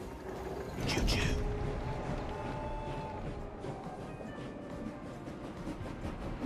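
A train rolls along in the video game Clair Obscur: Expedition 33, a steady rumbling rail run with faint clickety-clack, a brief louder surge early on, continuous and moderately loud throughout.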